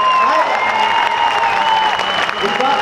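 Audience applause with some cheering at a Down syndrome sports festival fashion show in Germany, a steady dense wash of clapping with crowd noise throughout and a voice faintly over it.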